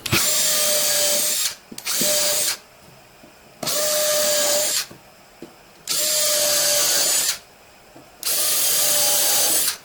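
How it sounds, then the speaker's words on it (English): A power drill whines loudly in four separate bursts while boring a pilot hole, each run lasting about a second or more, with short quiet pauses between them. "And then I just drill a pilot hole as straight as I can."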